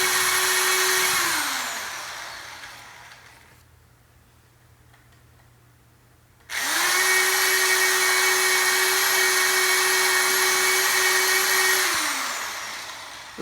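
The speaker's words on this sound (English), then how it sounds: "I drilled a 9/64 size hole into each of the spots" A power drill bores holes into a vehicle roof for aftermarket cab lights, using a 9/64 bit after pilot holes. Two long, steady, high-pitched whining runs spin up and wind down, separated by a quiet pause, close and alone.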